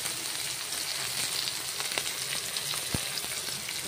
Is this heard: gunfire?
no